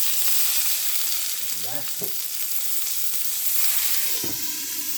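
A burger patty sears on a hot griddle with a steady, close sizzle throughout, broken by a few brief scraping or clinking touches near the middle and end.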